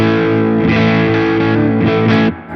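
Valiant Mercury electric guitar with its pickups in series connection mode, played through heavy distortion with an effects unit, a thick sustained chord ringing loud and close, re-struck a few times, then cut off near the end.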